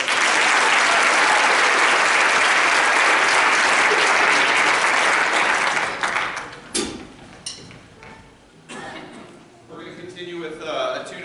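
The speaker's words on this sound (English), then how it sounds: "How about a round of applause?" Loud, dense audience applause at a middle school honor jazz concert fills the first six seconds, then fades into scattered claps, a few thin cheers and voices.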